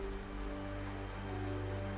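Steady rain hiss fills a horror game scene, continuous and even, with low hum beneath and no voices.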